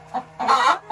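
A hen gives two short, close clucks, a soft first one and a louder, throatier second, on a farm with turkeys and other poultry.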